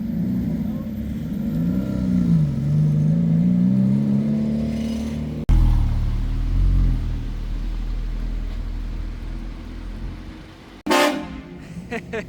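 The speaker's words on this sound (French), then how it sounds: "La sortie d'un véhicule atypique hein, de ce club, regardez-moi ça." A customized car drives out of a private car club, its engine droning loudly and rising and falling in pitch, with a sharp burst of noise near the end.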